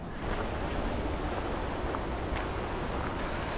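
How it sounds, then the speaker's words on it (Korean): Strong ocean waves on the South African coast roar as a dense, continuous wash of surf that stays loud and steady, with wind noise over it. "파도가 굉장히 센 파도라서"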